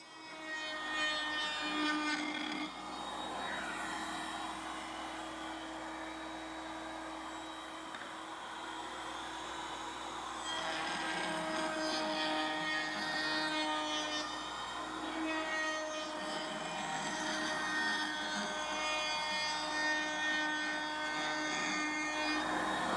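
A router spins steadily while shaping a hardwood stick into a dowel, a continuous high whining drone with tonal overtones that holds at a fairly even level for over twenty seconds, with no talking.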